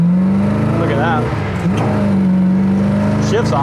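A 1967 Ford Mustang 390 S Code accelerates hard from the driver's seat, engine note climbing through a gear change and pulling strongly again, loud and close with voices talking over the drone.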